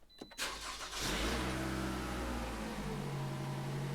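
A Toyota RAV4 with a dead key fob battery cranks briefly after a few faint clicks and catches, settling into a steady, close idle hum with a low engine drone throughout.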